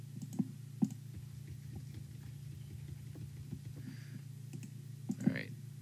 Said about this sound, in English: It involves a lot of clicking